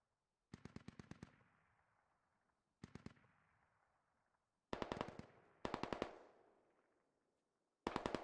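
Rapid automatic gunfire from the video game Squad, five sharp bursts of several shots each with long echoing tails, heard at a distance with quiet pauses between bursts.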